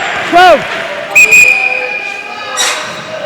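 A referee's whistle sounds during an indoor lacrosse national championship game in a gym, several sharp short blasts that rise and fall over arena noise, with further brief whistle bursts and a commentator talking.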